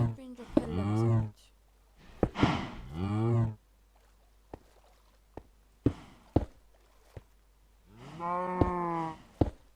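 Cows on a farm in a video game give three loud, close moos, each a second or more long, separated by gaps with sharp footstep-like clicks.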